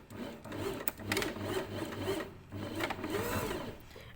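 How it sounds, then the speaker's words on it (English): A sewing machine runs a short reverse stitch while sewing a pocket, its needle chattering in steady bursts that pause briefly between runs, close and moderately loud. "So we start with a little reverse stitch."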